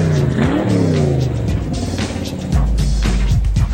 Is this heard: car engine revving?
yes